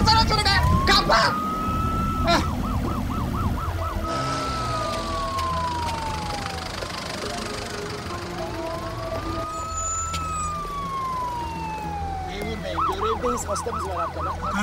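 Wailing ambulance siren sweeping up and down, with stretches of fast yelp, heard close over traffic and engine noise while people talk excitedly nearby.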